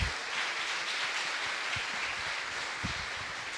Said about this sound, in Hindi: तालियां बजाएं और प्रभु को महिमा दे।